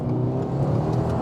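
Tuned 2022 Subaru WRX with extra boost accelerating hard, a loud sustained engine drone with steady harmonic tones close to the microphone, heard alone.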